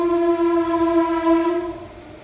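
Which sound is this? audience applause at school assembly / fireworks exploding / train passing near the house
train passing near the house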